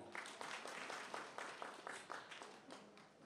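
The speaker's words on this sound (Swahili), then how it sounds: "Nipigeni makofi tafadhali" Scattered applause from a rally crowd of party supporters, fairly faint and uneven, with a ragged clapping rhythm running through the whole stretch and no voices over it.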